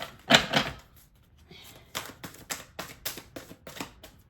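Tarot cards riffled in a short burst, then a run of quick, crisp slaps and flicks in a loose rhythm, close and fairly quiet with no talk over them.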